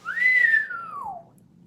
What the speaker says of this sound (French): Elle siffle.